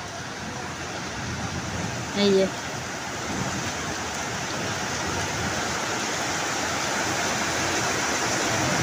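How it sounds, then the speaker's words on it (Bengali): Heavy rain pours in a dense, steady hiss that builds slightly over time, with a person speaking a couple of words briefly near the start. "সাঁ সাঁ করে আওয়াজ হচ্ছে, অনেক জোরেই বৃষ্টি হচ্ছে"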